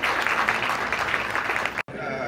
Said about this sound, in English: Give a big round of applause for Jasdeep Singh Jassi ji.